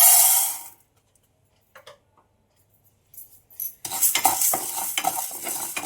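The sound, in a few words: dry roasting chana dal in a pan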